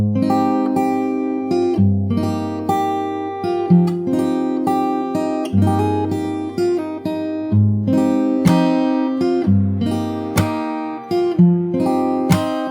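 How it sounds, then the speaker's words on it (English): A slow fingerstyle acoustic guitar plays the pre-chorus of a song with ringing chords, picked bass notes and occasional percussive hits, continuous, close and clear, with no voices. "So I'll play the whole pre-chorus once really slow."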